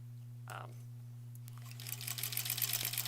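A sewing machine stitches quilt blocks for a granny squares quilt, starting after a few soft clicks with a quiet, rapid buzzing run near the end, against a steady low electrical hum.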